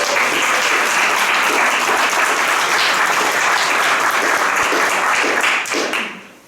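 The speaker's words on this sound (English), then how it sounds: "give a round of applause for these folks." Sustained applause from a crowd, loud and steady, tapering off at the end.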